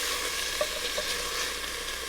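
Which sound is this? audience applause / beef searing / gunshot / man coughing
beef searing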